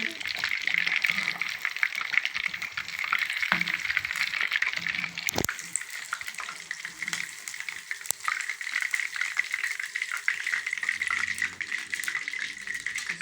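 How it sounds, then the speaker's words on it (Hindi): Fish frying in hot oil in a Lahori-style fried fish preparation, giving a steady, continuous sizzle with occasional spoon clinks and a voice talking over it. "माशाल्लाह बहुत ही अच्छी फ्राई हो रही है"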